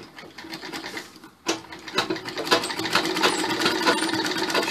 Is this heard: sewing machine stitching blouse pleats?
yes